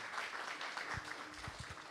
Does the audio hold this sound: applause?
yes